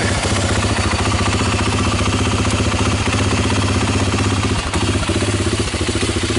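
A Honda TRX300EX ATV engine, cold and just started with the choke, idles close by in a steady, even chug with a faint clatter. It runs alone and unbroken throughout.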